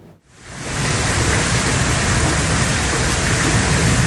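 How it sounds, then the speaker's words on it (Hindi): Heavy monsoon downpour over Islamabad and Rawalpindi, a dense, steady roar of rain that swells in within the first half second and then holds loud and unbroken without any talk. "जुड़वा शहरों इस्लामाबाद और रावलपिंडी में मूसलाधार बारिश से जल थल एक हो गया।"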